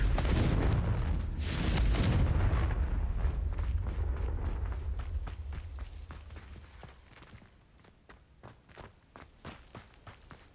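A Confringo fire blast spell explodes in the video game Hogwarts Legacy, a heavy roaring boom that rumbles for several seconds before fading into a rapid series of sharp crackling impacts and footstep-like taps.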